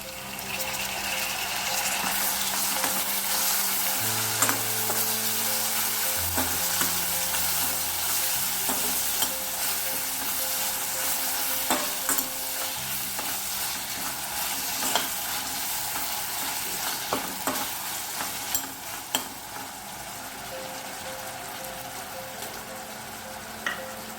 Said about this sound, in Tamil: தக்காளியெல்லாம் தெரியாத அளவுக்கு நல்லா வதக்கி விட்டுருங்க